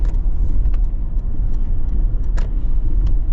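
An armored Toyota Land Cruiser rumbles steadily from inside the cabin, a low continuous engine and road drone with faint clicks and rattles on top, no talking.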